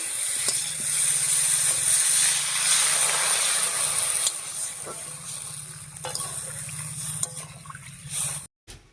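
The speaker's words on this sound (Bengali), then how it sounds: "এবারে ঝুলে ঝুলে জল দিয়ে দিচ্ছি" Water poured into a hot pan of lata fish curry: a loud, rushing hiss of steam and sizzle for several seconds, then a quieter bubbling simmer with a few small knocks.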